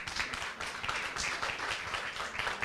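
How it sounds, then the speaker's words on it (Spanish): Audience at a breast cancer awareness talk applauding, a dense, even wash of many hands clapping that holds steadily throughout without letting up. "Un aplauso, por favor."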